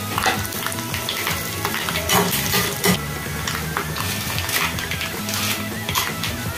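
Dried red chillies and cashews sizzle in hot oil for a curd rice tempering, a close, steady crackle with scraping stirring throughout and no voices.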